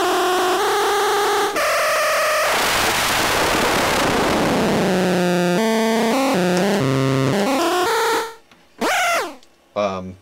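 An ARP 2600 synthesizer's noise generator blares tonal bleeps and a wash of noise that sweeps and filters, then cuts into short bursts and abrupt stops.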